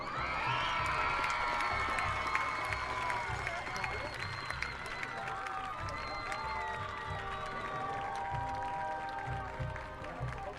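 A stadium crowd at a night high school football game applauds and cheers the 2020 homecoming queen and king, with whoops and children shouting over continuous clapping; a public-address voice talks over the noise.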